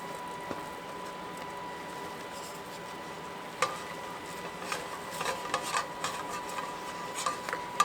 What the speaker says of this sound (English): And I am going to put all of this flour mixture in here all at once. And then we're going to stir like crazy.